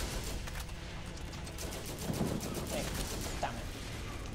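Rapid bursts of gunfire from a flame-spitting gun in Borderlands, a dense, continuous fusillade with repeated sharp cracks, fairly loud and steady.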